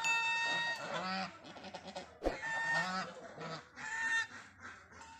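Swans in a village give loud, nasal honking calls, several overlapping in close succession with short gaps, near and clear with no talking.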